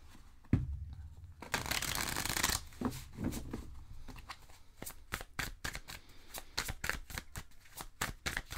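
Tarot cards shuffled by hand during a reading, a burst of dense riffling followed by a long run of quick, crisp snapping card taps in a steady rhythm, close and clear with no talk.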